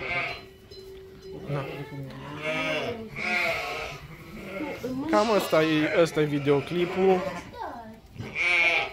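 Sheep, goats and a lamb bleat repeatedly at a sheepfold, close and loud, with a person speaking briefly among the calls.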